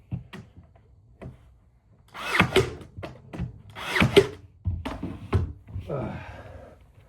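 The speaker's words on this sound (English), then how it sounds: "Driving these nails into old lath and plaster walls." A power tool drives nails into an old lath and plaster wall in a century-old house, with a few short whirring bursts between quieter stretches and a voice talking nearby.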